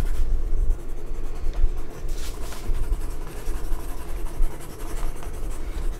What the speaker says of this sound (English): I'm gonna rub this thing raw.